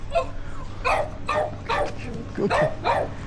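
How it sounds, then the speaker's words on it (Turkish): Several small dogs yap and bark in quick bursts in a narrow Saigon alley, with a whimpering yip mixed in, fairly close against a steady background hum. "Köpek dolu."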